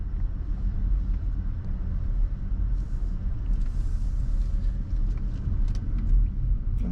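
A car pulls out of the pit lane at the Interlagos circuit, its steady low engine rumble close and continuous, with faint road and wind noise over the top.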